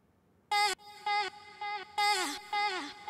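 A short chopped vocal-style sample from a drum and bass track repeats in five clipped bursts with brief silences between them, clear and moderately loud.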